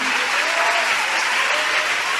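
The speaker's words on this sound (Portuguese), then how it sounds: "A melhor salva de palmas que o Piauí já deu para o Senhor Jesus." A church congregation claps steadily and loudly, a dense wash of applause filling the whole stretch without pause.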